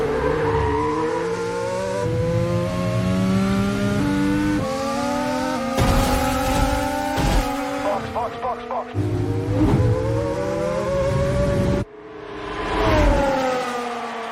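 An AI-generated F1 race car screams through rising and falling engine revs with gear shifts and squealing tires, loud and close, while a voice talks over parts of the sound.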